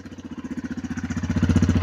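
Aurora Hector 450 ATV idling right by its exhaust, a loud, rhythmic chugging pulse that grows slightly louder as it goes, with no voices.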